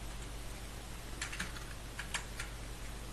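Keys clattering on a computer keyboard while entering data into an Excel sheet, short bursts of quick, light clicks in two clusters over a faint steady electrical hum, fairly quiet and close, with no talking.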